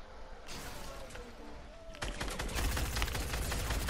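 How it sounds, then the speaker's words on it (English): A minigun firing in Fortnite: a muffled stretch gives way to a dense, rapid stream of gunfire that grows louder and sustained near the end. "Is that David with the mini gun?"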